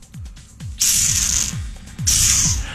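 A voice imitates a squirrel with rapid wet clicking pulses and two bursts of hissing chatter, close up and alone.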